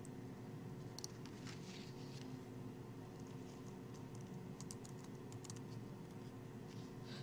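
Quiet computer keyboard typing, with sparse clicks and short bursts of keystrokes entering a search term over a low steady background hum, no voices.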